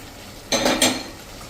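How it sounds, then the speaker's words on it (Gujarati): Fried eggplant and potato chips are tipped into a pan and stirred, giving a brief close clatter and scrape lasting about half a second against a quiet background. "અને હવે જે આપણે આ ચિપ્સ રીંગણા બટેટાની ફ્રાય કરી છે ને એમાં નાખી દેશું."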